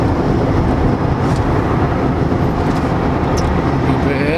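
Steady, loud road rumble from a truck cruising along a motorway, a continuous broadband drone of engine and tyre noise with no break and no talk.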